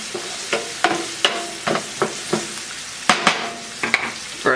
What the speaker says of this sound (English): I'm going to put our carrots and onions in there.